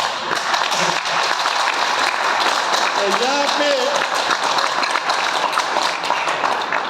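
Devotees at an ISKCON gathering in Mira Road clap together continuously and loudly, a steady wash of applause with a voice rising briefly through it.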